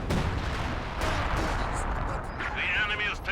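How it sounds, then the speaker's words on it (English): Katyusha rocket artillery barrage in the real-time strategy game Company of Heroes 2, with Soviet Katyushas firing during a 2v2 match: a rumbling, rolling series of launches and blasts carries on continuously, with a faint high whistle near the end. "Here comes the Katyusha. Oh, double Katyusha, I think."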